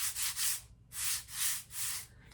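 Sand blocks are rubbed together in a rhythmic series of about five raspy, scratchy strokes with short gaps, close and fairly quiet.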